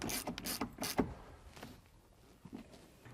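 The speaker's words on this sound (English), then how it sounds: "Now we'll reinstall the seatbelt with the T50 Torx." T50 Torx driver reinstalling a seatbelt bolt in a third-generation RAM 1500 cab: several quick ratcheting clicks in a burst, then a few fainter clicks, close and otherwise quiet.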